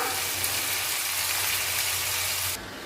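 Tomato and onion sautéing in a pan for egg biryani give a steady, close sizzle with a faint crackle that runs evenly and then drops away sharply near the end, with no voices.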